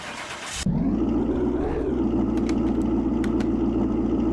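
A 1935 Ford truck engine cranks briefly, then fires and catches into a loud, steady idle up close, with a slight rev partway through and faint clicks over the running motor.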